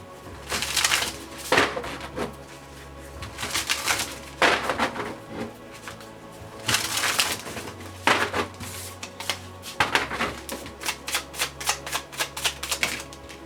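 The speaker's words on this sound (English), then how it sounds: "I'm gonna go ahead and shuffle some more." A deck of cards being shuffled in repeated bursts of riffling and flicking, close and fairly loud, with short pauses between rounds and no speech.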